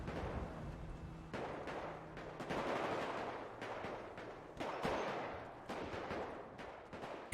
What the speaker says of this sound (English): that's a lot of gunfire for ammunition